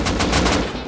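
An automated turret in the video game Rust fires a rapid, continuous burst of gunshots that stays loud and dense throughout.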